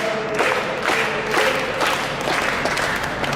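A live stage-show audience claps in rhythmic unison, a steady pulse of about two claps per second from a large crowd, loud and continuous.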